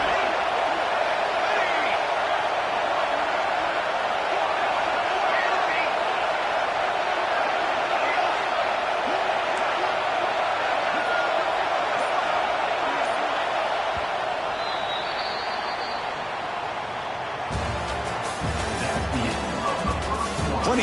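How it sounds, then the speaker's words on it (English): A stadium crowd roars in a steady, loud wash of noise during a red-zone defensive stand in the CFB 26 college football game, with play-by-play commentary running over it. "here comes the noise. This crowd is trying to inspire this defense to make a big red zone stop."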